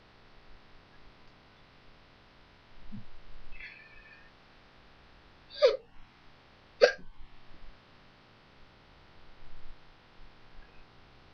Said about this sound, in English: Who got hiccups now?